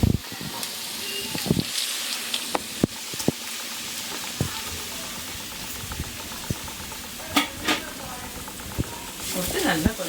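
Onion, garlic and dried chillies sauté in hot oil for a drumstick leaves poriyal, a soft steady sizzle and patter with scattered pops and clinks of stirring, close by; a person talks over it.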